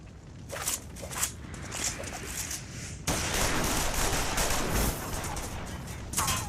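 Gunfire in Final Fantasy XIV Stormblood bursts out as a dense fusillade of overlapping shots, loud and continuous, growing heavier midway through the scene.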